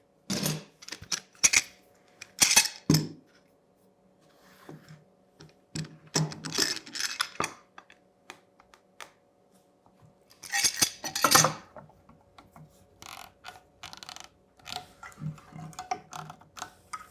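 Clamps tighten on a glued metal inlay workpiece being prepared for CNC routing, with bursts of ratcheting clicks and metallic clatter that come and go over several seconds, close and moderately loud with quiet gaps between.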